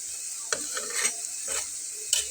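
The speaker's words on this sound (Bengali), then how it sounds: "আমি এটাকে বেশ একটু ঘুরিয়ে ঘুরিয়ে ভেজে নিচ্ছি।" Ground lentil and rice snack frying in hot oil, turned over now and then, giving a steady close sizzle with a few soft scraping stirs and clicks.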